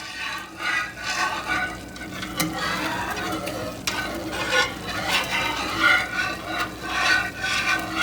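A utensil stirring thickening biscuit gravy in a pan on the stove, soft scraping and gentle sizzling in a steady, uneven rhythm, close and fairly quiet with no talk.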